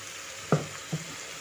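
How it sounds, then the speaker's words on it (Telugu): Ground mint paste frying in oil in a pan for mint rice gives a soft, steady sizzle, with two brief stirring scrapes standing out against it. "ఈ పుదీనా పేస్ట్ వేసుకొని బాగా వేయించుకోవాలి. ఆయిల్ పైకి తేలే వరకు వేయించుకోవాలండి."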